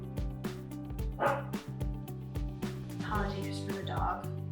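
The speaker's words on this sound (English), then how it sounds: "Apologies for the dog." A dog indoors barks and yips repeatedly in short, sharp bursts close by, with some whimpering mixed in.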